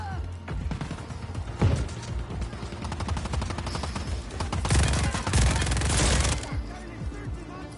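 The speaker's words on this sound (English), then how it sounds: "Stop shooting at me." Gunfire in a video game, dense bursts of rapid shots and crackling volleys that swell and fade, loud and close, with occasional heavier impacts.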